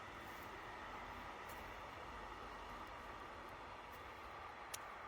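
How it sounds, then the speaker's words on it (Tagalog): A passing train heard as a steady, distant broadband rumble and rolling hiss that stays even throughout, with a few faint clicks on top, outdoors near a blackberry-picking spot. "Nadinig niyo ba yung ingay, guys? Mayroong train na dumaan."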